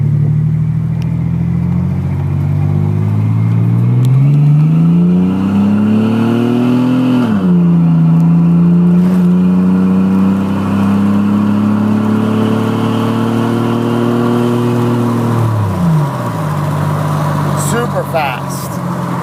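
A custom 2004 Chevy Blazer show truck's engine revs up loudly through its gears, pitch climbing steadily, dipping at a shift, then climbing again before easing off, heard close from inside the cabin with the window down.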